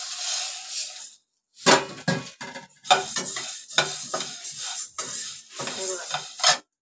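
Whole black peppercorns dry-roasted in a pan for homemade Malvani masala, with bursts of rattling, scraping stirring sounds separated by short pauses, close and fairly loud.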